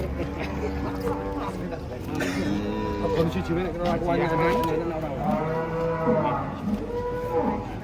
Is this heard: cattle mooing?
yes